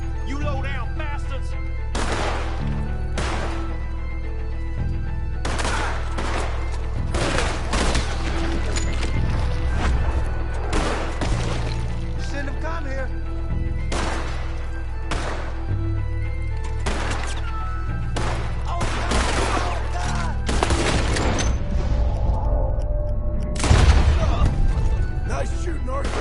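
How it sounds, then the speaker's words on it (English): Repeated gunshots ring out in scattered bursts during a gunfight in the video game Red Dead Redemption 2, mixed with a low rumbling background and voices talking throughout. "Nice shooting, Arthur."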